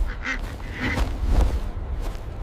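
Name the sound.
duck quacking in a cartoon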